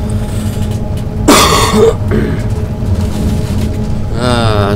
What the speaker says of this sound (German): So, Achtung, Husten.